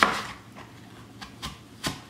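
A knife cuts green apples into slices about half an inch thick, giving about five crisp chopping strikes at a slow, uneven pace, close up and distinct, with no voices.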